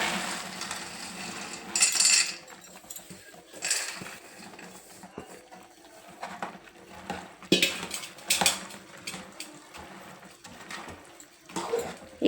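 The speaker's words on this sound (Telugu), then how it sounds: "ఇప్పుడు బూందీ వేసేసుకుందామండి" A spoon stirs boondi into sugar syrup in a metal pan, giving intermittent scraping clinks and wet sloshing in irregular bursts, fairly quiet and close, with no talking.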